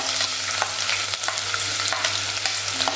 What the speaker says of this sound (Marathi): आता आपण बारीक चिरलेला कांदा घालूया यात।